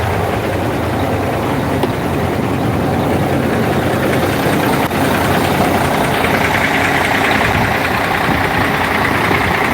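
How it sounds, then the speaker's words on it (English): A Cummins ISX diesel engine in a semi truck idling as it warms up, a loud, steady, close rumble with an even knocking texture throughout. "Cummins ISX."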